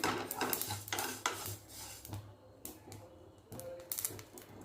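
Roasted sesame seeds are scraped from a pan onto a plate with a metal utensil, giving clinking, scraping strokes and light rattling in an irregular rhythm, close and fairly quiet.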